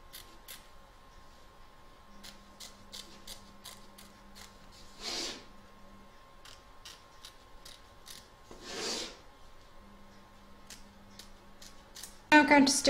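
Scissors snip and rasp through excess fabric around a machine-embroidery hoop, two soft cutting bursts a few seconds apart over a steady low machine hum, with a louder clatter as the hoop is handled at the end.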